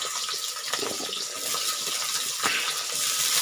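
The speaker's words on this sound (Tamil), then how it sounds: "அதே மாதிரி 1/2 கிலோ பாலக் எடுத்து நல்லா க்ளீன் பண்ணி 4-5 வாட்டி வாஷ் பண்ணி" Spinach is washed under running tap water in a home kitchen, a steady splashing gush with soft irregular patters as the leaves are handled, close and continuous.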